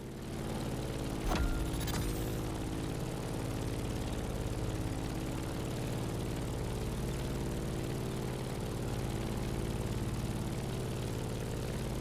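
A steady airplane engine drones in the game The Crew Motorfest during turbulent flight, a constant, fairly loud hum with no voices over it.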